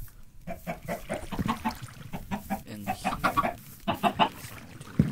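Chickens on a Minecraft chicken farm cluck in quick, repeated bursts throughout, fairly close and busy, with a person talking over them.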